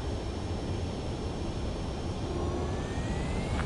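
Jet aircraft engine roar during a runway landing in the video game Ace Combat 7, a steady broadband rumble with a faint rising whine, continuous and close, with no talking.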